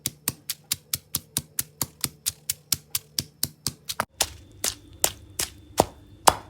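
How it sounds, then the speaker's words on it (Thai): Green chilies and chopped shallots pounded in a mortar for a Lao-Thai mok mor dish, a steady run of sharp, evenly spaced thuds, close and clear, turning slightly heavier and wetter toward the end with no talk. "ตำหอมตำค่อยๆนี่สิกระเด็นใส่"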